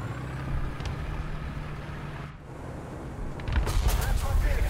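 A T-55A tank cannon fires in War Thunder tank gameplay, with a dull blast rising out of a steady rumbling engine drone as a player talks in the background.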